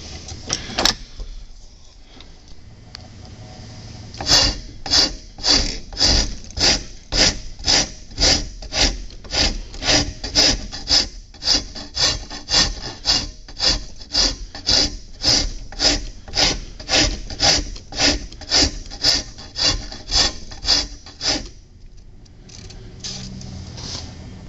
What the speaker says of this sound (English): Now I'll just take a wood rasp and start shaping this thing out, filing these pins